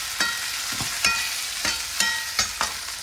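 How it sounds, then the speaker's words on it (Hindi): Pahadi potato and radish thichwani roasting in a pan, with soft sizzling and a few sharp stir-scrapes of a spoon against the pan at uneven intervals, close and moderately loud, with no talking. "थोड़ी देर ऐसे ही रोस्ट करेंगे इसको, थोड़ा सा पकाएंगे इसको"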